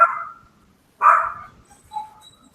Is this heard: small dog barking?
yes